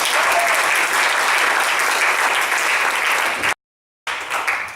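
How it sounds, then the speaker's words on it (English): Loud, sustained applause from the audience at an improv night, a thick wash of clapping that cuts out abruptly for a moment near the end, then resumes. "Big round of applause for everybody."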